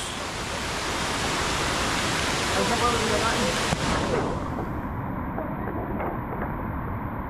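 A forest waterfall roars as a loud, steady rush of water that continues throughout without a break.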